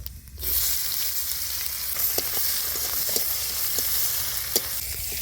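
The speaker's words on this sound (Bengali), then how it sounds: "তেলটা গরম হয়ে গেছে ফোড়নে গোটা জিরা দিয়ে দিয়েছি এবার দিয়ে দেবো কেটে রাখা পেঁয়াজ" Chopped onions hitting hot oil tempered with whole cumin seeds in a village kitchen, a sudden loud sizzle that settles into a steady close crackle with scattered pops and scrapes.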